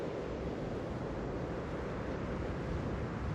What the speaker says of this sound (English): Bit windy up here.